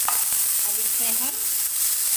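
Potatoes added to a hot pan for a juicy vrat-style curry, frying with a steady close hiss and sizzle, plus a faint brief scraping stir, throughout without talk.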